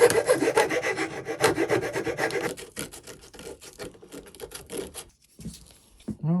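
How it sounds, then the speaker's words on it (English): A rasp files the wood of a hand plane holder in repeated rough scraping strokes, loud and close at first, then lighter and more broken before pausing and resuming briefly. "clean it up with your rasp or a bit of sandpaper"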